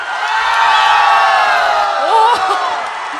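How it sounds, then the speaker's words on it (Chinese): A large crowd at an outdoor stage show screams and cheers loudly and continuously, with whoops and shouts rising near the end. "来，咱们全场来点尖叫声！"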